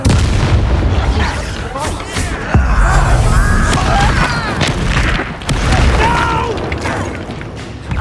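Repeated Confringo explosive fire spells blasting during a Hogwarts Legacy duel, loud booming bursts one after another under music and scattered voices throughout.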